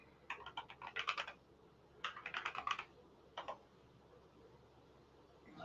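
A computer keyboard that is playing up is typed on in three short bursts of close, light clicking, each followed by a quiet gap.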